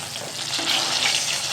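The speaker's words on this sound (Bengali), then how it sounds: "একটু হলুদের গুঁড়ো, একটু নুন দিয়ে এটাকে বেগুনটাকে ভেজে তুলি।" Eggplant pieces frying in mustard oil with salt and turmeric, a steady, fairly loud hiss of sizzling that holds even for the whole moment, with no one talking.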